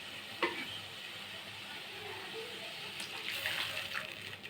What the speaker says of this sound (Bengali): একটু ফুটে গেলে এরপর এর মধ্যে আমি একটু গরম জল দিয়ে দেব